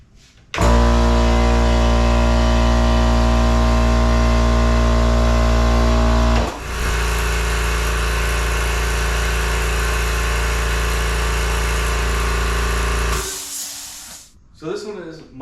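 A Husky 20-gallon silent air compressor runs loudly up close with a steady low motor drone and strong humming tones, then shifts to a rougher continuous hum with a faint rattle from its sheet metal shield before cutting off.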